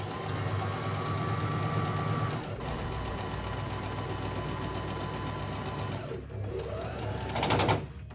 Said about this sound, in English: Now I take 3 edges of the main fabric and sew them pretty side to pretty side.